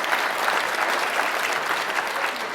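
Conference audience applauding after a keynote luncheon, steady dense clapping from a large crowd sustained evenly throughout without any talk.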